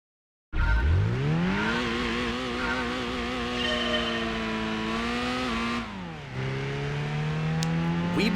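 Race car in Gran Turismo 2 on PS1 with a 190 brake horsepower engine, launching in first gear with a little wheel spin: a loud, steady rising engine whine with tire squeal, a brief dip at a gear change, then climbing again.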